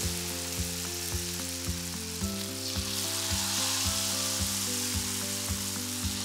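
Banana fritters made from pisang abu, battered and submerged in hot oil in a wok, fry with a continuous dense sizzle that stays even throughout, with no talking.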